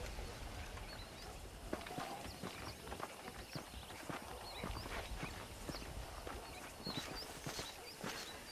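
Horse hooves clip-clopping in the video game Red Dead Redemption, a steady rhythm of soft footfalls at moderate distance over a faint outdoor ambience, no speech.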